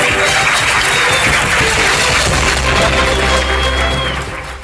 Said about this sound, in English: Please, let's give it a big, big round of applause.